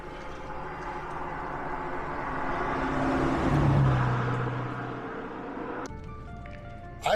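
A car drives past on a Montana road, its broadband roar swelling to a peak midway and fading away, followed by a brief sharp knock at the very end.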